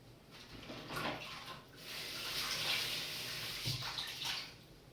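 Running water rinsing something in a kitchen during pear and chocolate mousse preparation, a steady close splash that swells and eases in a few waves with no talk.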